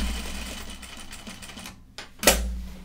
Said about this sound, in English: I'm going to do a bit of a edge stitch